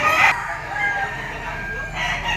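A white hatch stag rooster, two years old and yellow legged, crows loudly and close by at a gamefowl sale, one strong call rising at the start and another beginning at the end, with clucking and low farmyard noise between.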